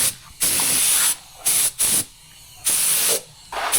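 Rust converter sprays onto a Land Rover Series vehicle in several sharp hissing bursts of varied length, separated by short pauses, close and loud, with no talking.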